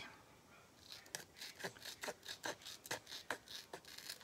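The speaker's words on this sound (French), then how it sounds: "Je vais venir découper l'intérieur de ma pochette" A paper pouch being cut open from the inside with scissors: about a dozen crisp, evenly spaced snips, close and quiet, with no voices.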